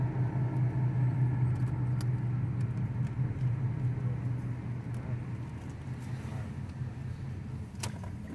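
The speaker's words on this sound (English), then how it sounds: "Recording a test drive." Car on a test drive: a steady low engine and road rumble heard from inside the cabin, with a few faint clicks and rattles on top.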